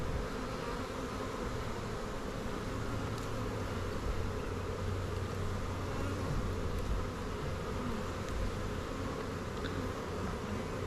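Honeybees swarm over an opened brood-box hive in a dense, continuous, close-up buzz that holds steady and loud the whole way through.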